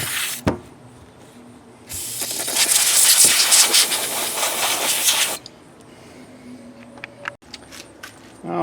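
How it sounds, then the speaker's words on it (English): Brake cleaner sprays onto the outside of a Murray snow blower carburetor in one loud, steady hissing burst of about three and a half seconds, with quieter handling noises before and after. "First I'm going to take a little brake cleaner here."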